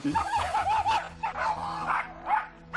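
Lucky, an aggressive dog, gives a close series of high yipping barks, several in quick succession followed by a pause and then more short barks.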